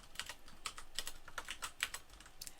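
Rapid, uneven typing on a computer keyboard while coding, with a steady run of close, crisp key clicks and no talking.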